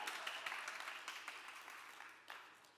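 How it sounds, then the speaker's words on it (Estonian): An audience in Pärnu applauds, a faint, distant wash of many hands clapping that slowly fades, with a couple of brighter claps near the end. "Pärnust sealt lava taha kostis küll aplausi ja sellist."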